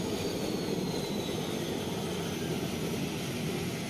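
In the Arma 3 video game, an aircraft comes in to land with a steady, loud engine roar and a broad hiss of airflow that holds constant throughout, with no talk.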